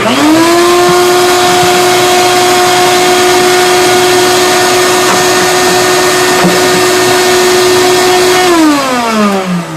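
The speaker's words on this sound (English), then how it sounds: "Very powerful sucking device." A powerful vacuum or suction device runs at guitar-repair work on a Kay K536N acoustic guitar. It makes a loud, steady motor whine that holds for most of the clip, then winds down near the end, with no talking.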